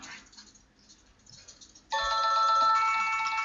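A mobile phone ringtone plays a bright, loud electronic melody that starts abruptly after a quiet, murmuring room and continues steadily to the end.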